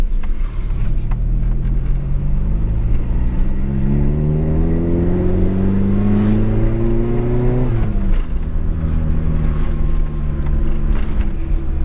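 A supercharged VW Gol G2 engine revs up in first gear, its pitch climbing steadily for several seconds before dropping sharply and settling into a lower drone; loud and continuous, with no talking.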